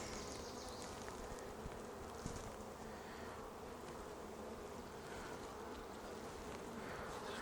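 Honey bees swarm around an opened hive, their dense, steady buzzing filling the air without pause from start to finish, close and even in loudness, with no voices.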